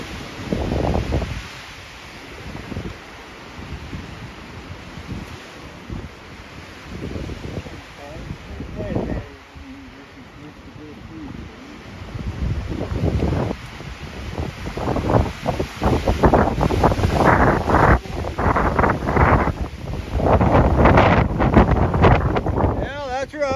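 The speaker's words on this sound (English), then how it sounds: "that's a good wind on that side" Strong wind roars and gusts across the Pulpit summit in the Smoky Mountains, a steady close-mic buffeting that swells louder toward the end, with voices talking over it.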